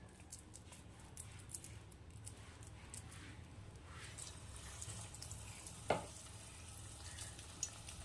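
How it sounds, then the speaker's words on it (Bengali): Drumstick flower and poppy seed fritters fry in hot oil with a faint, steady crackling sizzle and a single sharper pop partway through. "এখন ছোট ছোট বড়ার আকারে গড়ে ভালো করে ভেজে নিতে হবে"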